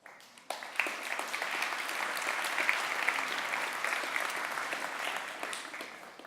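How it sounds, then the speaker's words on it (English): An audience at a startup pitch competition breaks into applause, a dense steady wash of many hands clapping that swells quickly and holds before tapering slightly near the end, heard from some distance. "this is worth another round of applause"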